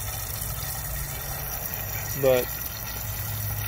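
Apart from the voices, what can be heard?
water filling a gardening bucket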